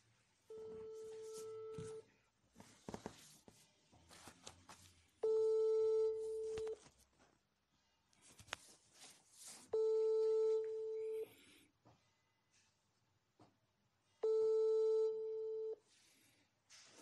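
A telephone busy signal sounds four times in long, evenly spaced tones, with faint rustling and noise between them, marking a failed phone connection.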